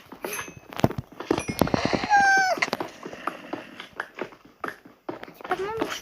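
Horse hooves clip-clop in a Minecraft game, a quick run of sharp hoof taps near the listener, mixed with whinnying and other game sounds, with no talking over it.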